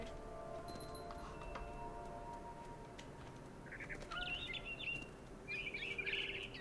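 A mother bird in the game What Remains of Edith Finch gives chirping calls in two bursts near the end, over a steady windy ambient bed with faint tones.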